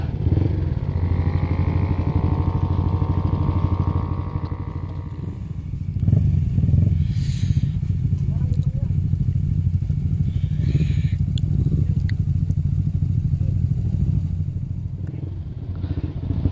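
Honda CBR 150R and CBR 250RR sport bikes race on a circuit. Close, loud engines rev and climb through the gears with a rising whine, then hold a steady drone, with brief clatter over the top.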